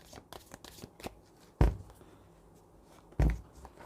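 Tarot cards shuffled and drawn during a reading, with soft papery riffles and flicks early on, then two sharp, loud slaps of cards set down about a second and a half apart.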